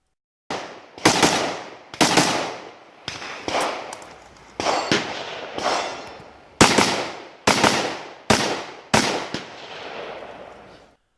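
Series of loud gunshots at a 3-gun shooting match, about a dozen sharp reports in uneven bursts with short pauses between strings and a longer gap mid-sequence, each shot ringing out with a brief echo tail.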